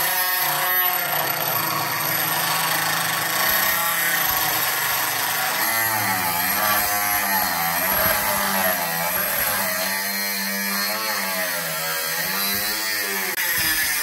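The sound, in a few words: homemade 775 DC motor angle grinder cutting iron sheet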